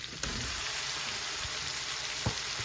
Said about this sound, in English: I'm going to add the ground beef